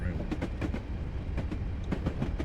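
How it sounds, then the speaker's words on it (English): A train in Train Simulator crosses a viaduct on the West Highland Line over Rannoch Moor, its wheels giving a steady rhythmic clickety-clack of paired beats over a low rumbling drone, close and continuous. "The railway continues to climb over the Akalada Viaduct onto the Rannoch Moor."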